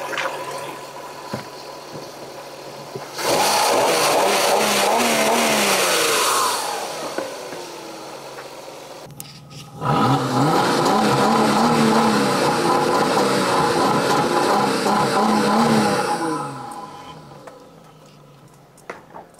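A 2.7-litre V6 in an Audi A6 Allroad revs up twice, each burst held loudly for several seconds before falling back toward idle, with a short quieter gap between the two pulls.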